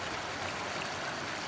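At Ranbang Khola, a fast-flowing river gives off a constant, soft hiss of rushing water, even and unbroken, heard alone without talk.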